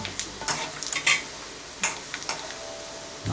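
Coconut pieces browning in a pan for kadala parippu pradhaman: a soft background sizzle broken by irregular scraping and stirring clicks from a spoon over a few seconds.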